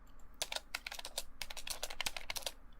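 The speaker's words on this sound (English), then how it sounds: "yep, keyboard noises." Rapid computer keyboard typing, a steady run of crisp key clicks with small pauses, close and fairly quiet over faint room hiss.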